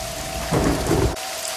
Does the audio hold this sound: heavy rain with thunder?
yes